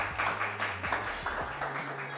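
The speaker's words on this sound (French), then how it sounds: "Applaudissez si vous connaissez les Destiny's Child." A student audience claps in a room, with a patter of uneven hand claps that rises and falls in loose bursts, and faint voices underneath.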